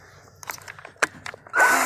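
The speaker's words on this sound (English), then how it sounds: "I'm going to go ahead and just drill a pilot hole anyways" Clicks and handling noises, then a power drill starts up loudly and whirs at the very end, drilling a pilot hole while mounting a cellular signal booster.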